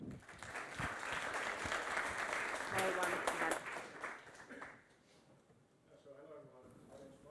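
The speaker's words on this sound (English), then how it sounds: "Let's give a great round of applause for Polar Night Energy." An audience at a startup showcase claps for Polar Night Energy, a burst of applause lasting about four seconds before fading, followed by a voice speaking.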